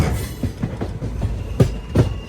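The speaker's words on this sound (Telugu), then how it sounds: "రత్నాచల్ బండిని యార్డుకి తీసుకెళ్ళిపోతున్నారు" The Ratnachal Express rolls slowly toward the yard, its wheels giving a steady clickety-clack over rail joints with heavier thumps at intervals, close by and under a constant background rumble.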